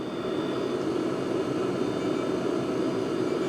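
A compact diesel heater for van use runs with an exhaust muffler fitted, giving a steady, even roar and whoosh of combustion air that stays constant throughout, close and moderately loud.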